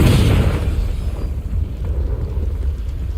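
Casting the Confringo spell in Hogwarts Legacy sets off a loud, deep explosion boom at the start, which fades into a rumbling roar and crackle over the next few seconds.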